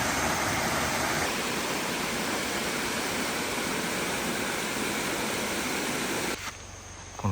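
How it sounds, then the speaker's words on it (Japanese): A waterfall in a mountain gorge in Okayama, Japan, thunders with a dense, steady, loud roar of falling water that holds unbroken for several seconds before dropping away abruptly near the end. "滝や。"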